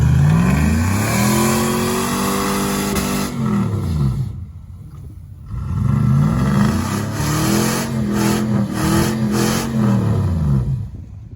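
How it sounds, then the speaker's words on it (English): A front-wheel drive Chevrolet Silverado pickup with drive shafts at the back revs hard and loud close by, its engine note sweeping up and down in repeated surges with a brief dip in the middle, no talking. "Front-wheel drive Silverado. Drive shafts in the back."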